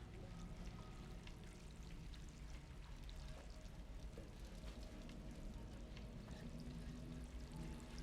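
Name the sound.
running water in video game Stray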